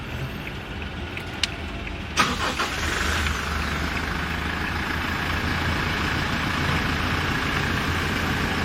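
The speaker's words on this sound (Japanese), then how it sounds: "エンジンを始動してもらって" A new Toyota HiAce van's engine cranks and fires with a short burst, then settles into a steady, even idle close by, with no talking.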